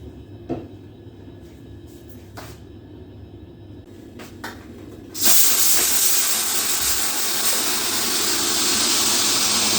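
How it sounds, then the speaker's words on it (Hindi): Steam bursts out of a pressure cooker on a kitchen stove with a sudden loud hiss that follows a few faint clicks and knocks, then keeps rushing steadily and close by until the end. "कुकर से भाप बहुत ज़्यादा तेज़ निकली।"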